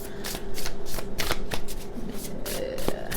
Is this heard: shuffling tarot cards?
yes